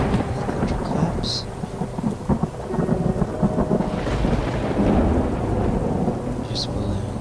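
Thunder claps during a rainstorm: a loud, rolling rumble builds and swells over continuous rain hiss, with a couple of sharper cracks standing out.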